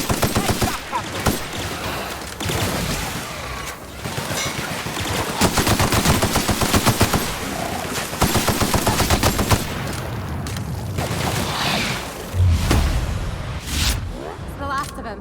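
Rapid bursts of gunfire from a firefight in the video game The Outer Worlds, loud and near, with machine-gun rattles and single shots repeating across the whole stretch while a character's voice speaks over the shooting.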